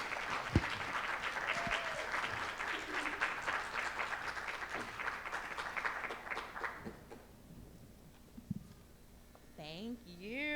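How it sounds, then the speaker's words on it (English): Audience applause at a Black maternal mental health summit greets Dr. Paula Grace, a dense steady clapping that runs for about eight seconds before thinning out, with a voice and faint chatter surfacing near the end. "let's give a big round of applause for Dr. Paula Grace"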